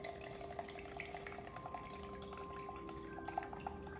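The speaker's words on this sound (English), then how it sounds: "Pour our milk in there." Milk poured from an opened can into a container for a peanut butter protein shake, a quiet dribbling, dripping liquid sound with small splashes, fairly faint and steady with no talking.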